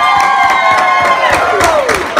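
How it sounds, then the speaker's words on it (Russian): Audience at a concert greeting a guest with loud applause and cheering, rapid clapping mixed with shouts and high whistling cries, close and energetic over a couple of seconds. "давайте поприветствуем нашу очаровательную, обаятельную, нашу многоуважаемую гостью бурными, громкими аплодисментами, наша уважаемая Амина Сулаханская"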